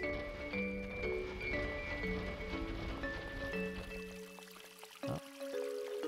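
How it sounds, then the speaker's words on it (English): Running water in the video game Everdeep Aurora: a steady, close pouring and splashing wash that continues throughout, with tonal game music layered over it. "Oh, I hear running water."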